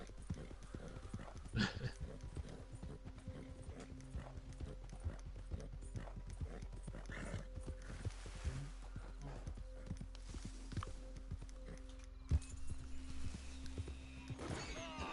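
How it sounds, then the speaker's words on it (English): Horse hooves in a video game, a steady rhythmic clip-clop of a ridden horse travelling across open plains, continuous and fairly close, with a short neigh partway through. "Gonna travel on my horse, of course."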